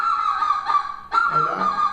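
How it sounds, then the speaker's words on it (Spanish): Goose honking heard alone: a sustained nasal honk, a short break, then another long honk, close and clear. "el sonido de los gansos"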